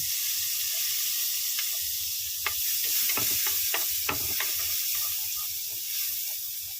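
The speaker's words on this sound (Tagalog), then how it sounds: "ilagay na po natin yung ating butter. Habang pinapatunaw natin siya, isunod na rin po natin yung ating bawang." Butter melting with garlic frying in a pan makes a steady close sizzle, broken by several sharp crackles and scraping stirs through the middle of the clip, with no talking.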